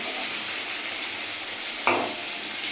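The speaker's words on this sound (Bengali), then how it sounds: "মাছটা ভালো করে ভেজে নিই" Fish frying in a pan, giving a steady close sizzle throughout with one sudden louder crackle or scrape near the end.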